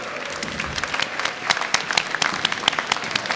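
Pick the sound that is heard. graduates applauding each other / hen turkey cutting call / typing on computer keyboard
graduates applauding each other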